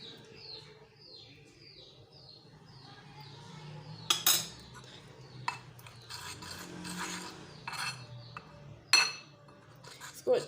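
A spoon scrapes and clinks against a bowl while orange peel powder and milk are stirred into a face mask paste: soft rasping strokes broken by several sharp metallic taps, close and fairly quiet.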